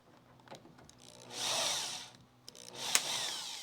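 A power drill spins up in two short bursts, close by, separated by clicks and knocks, with no talking, during a Charger crew cab restoration.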